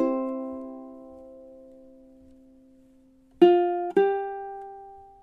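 Ukulele playing measure 4 of a song, a long ringing plucked chord decaying slowly, followed by two more sharp plucked chords near the end, played alone and close.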